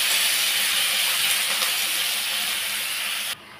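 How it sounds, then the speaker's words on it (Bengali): Chopped onion sizzles in hot oil with a loud, dense, steady hiss close by that cuts off abruptly near the end. "তেলটা গরম হয়ে গেছে, এইবার আমি এই কুচনো পেঁয়াজটা এর মধ্যে দিয়ে দিচ্ছি।"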